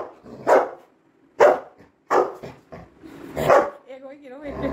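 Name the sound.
dog barking, Labrador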